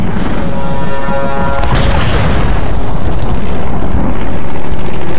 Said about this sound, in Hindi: भाई साहब एयरक्राफ्ट गिर गया,